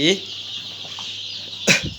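Chickens on a poultry farm with incubator-hatched chicks, two brief loud clucks, one at the start and one near the end, separated by quiet hum.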